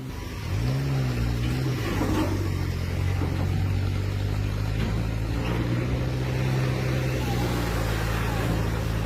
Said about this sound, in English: its rear wheels spinning and smoking as the engine roars in protest